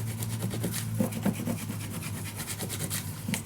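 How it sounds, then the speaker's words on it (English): Glue and tape being burnished down onto a paper folio: a steady, close rubbing and rasping with quick repeated strokes, continuous and fairly quiet, with no talking. "Burnish it down as good as you can. You really have to push this down."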